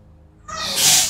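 A single sneeze bursts out after a quiet moment, loud and close, with a sharp hissy release that trails off over about a second.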